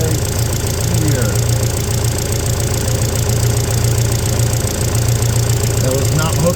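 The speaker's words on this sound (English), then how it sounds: "You'll see the engine's running smoothly. Sounds like it's supposed to sound." A Toyota Tacoma's 2.7L four-cylinder idles smoothly and evenly after a vacuum leak fix, a loud, close, steady rumble with faint faint higher chirps, and no talk.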